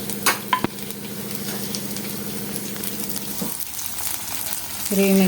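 Green chilies and onion frying in oil for kanda poha, a continuous close sizzle with a few sharp utensil knocks at the start and a low hum throughout.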